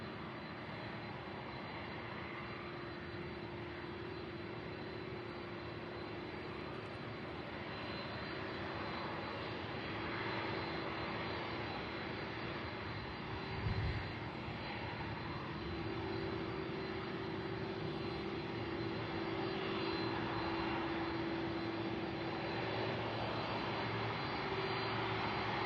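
Older airliner engines at Louisville SDF airport, a continuous droning roar with a steady hum that swells slightly over time, heard from a distance at moderate level with a brief thump midway.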